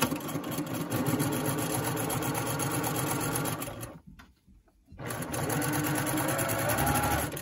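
A sewing machine stitches fabric ties for face masks, running as a steady close mechanical whir that stops briefly near the middle before starting up again.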